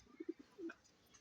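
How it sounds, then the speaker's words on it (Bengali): A domestic pigeon cooing in a loft: a few soft, low coos in quick succession followed by a longer drawn-out coo, faint and close, with no talk. "আর ডাক দেখছেন কবুতরের?"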